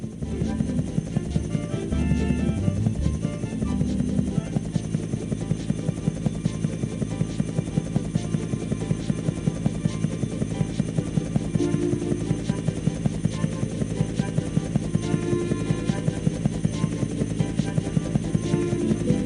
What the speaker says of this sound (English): There's a biplane flying near you.